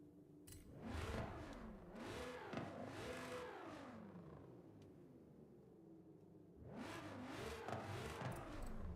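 A car engine in Forza Horizon 5 revs hard in repeated rising and falling sweeps, with a loud burst at the start, a sustained stretch in the middle, and another strong rev near the end, without talk.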